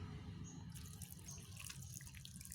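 Water poured onto coconut coir planting medium, a soft, close trickle and splash that runs steadily with faint dripping, quiet and with no talk.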